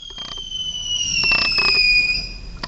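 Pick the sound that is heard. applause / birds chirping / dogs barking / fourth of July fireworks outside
fourth of July fireworks outside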